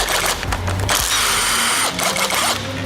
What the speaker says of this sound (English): Next, we are loosening the head bolts.